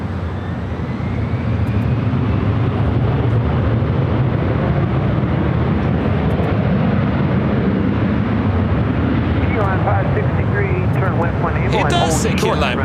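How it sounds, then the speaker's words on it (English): Delta Airbus A321 jet departing LAX, a steady broadband roar of engines held throughout at close range, with faint chirping near the end and a hint of background voices. "It's Delta A321 heading to Atlanta"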